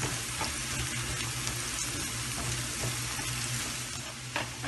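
A tablespoon of butter melts and sizzles in a frying pan while making chicken snacks, giving a steady, close, even hiss throughout with a few faint clinks and no talking.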